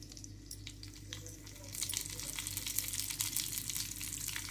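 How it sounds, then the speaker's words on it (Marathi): Mustard seeds and cumin hit hot oil for a sambar tempering, a faint crackling sizzle that grows busier and brighter partway through, close but quiet, with no talk. "आता इकडं बघा तेल तापलं का. मोहरी, जिरे,"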